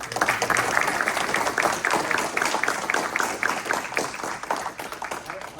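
An audience at a business presentation in Bergenfield breaks into steady, dense applause, many hands clapping together in a continuous, even patter that holds for several seconds.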